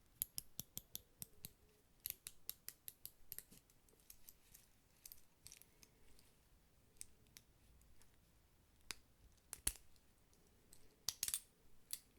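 A metal watch clasp with a mix of polished and brushed finish snaps shut repeatedly, giving crisp close-up clicks in quick bursts with quiet gaps, very near and sharp against a hushed background.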